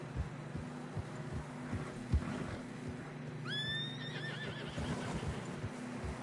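Horses in Red Dead Redemption 2 trudge through fresh snow on a narrowing trail, hooves thudding in a steady plodding rhythm while one horse lets out a clear, drawn-out whinny partway through.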